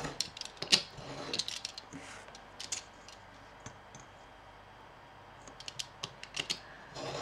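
A knife cutting through paper on a craft work surface, with sparse, quiet scraping strokes and small clicks spread out unevenly, near and soft.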